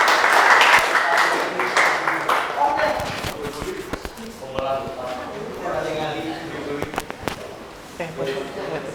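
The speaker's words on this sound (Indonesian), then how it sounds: "Oke, tepuk tangan untuk kelompok Dio." Students in a university teacher-training classroom clap for a group about to present; a burst of applause comes first, then fades into scattered claps, shuffling and voices.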